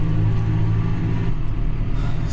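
Massey Ferguson 5S.135 tractor crossing a rough field at around 24 km/h, a steady low engine rumble heard from the cab.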